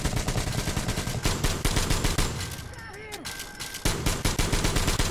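Rapid machine gun fire in the shooter game Metro Exodus rattles out in dense, loud bursts, broken by a short lull before resuming.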